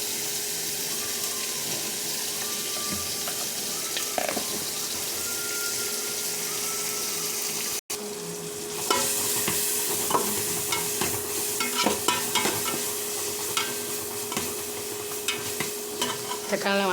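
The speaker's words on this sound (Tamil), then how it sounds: "தக்காளி போடுவோம். தக்காளி வதங்கிறதுக்கு உப்பு போடுவோம்." Tomatoes with salt fry in a pan and are stirred with a spoon. A steady sizzle runs underneath, with scraping strokes, and it turns louder and brighter about halfway through.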